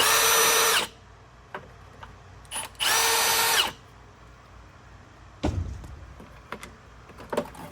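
Power driver backing Phillips screws out of the top cover of a Troy-Bilt lawn mower: two loud, close whirring bursts, the second longer, followed by quieter clicks and clatter of parts being handled.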